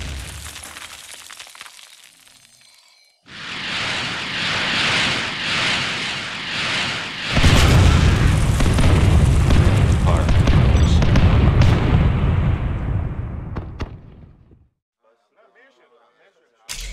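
MLRS rocket artillery strike in the Generals Zero Hour game: a loud, near barrage of booming blasts and crackling debris that swells into a sustained roar, then cuts off abruptly.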